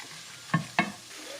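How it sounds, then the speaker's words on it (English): Two quick scrapes of a spoon against a pot where onions and green chili fry in oil, over a soft, low sizzle, close by. "Add onions, green chili, and a pinch of salt and cook that down for 10 minutes."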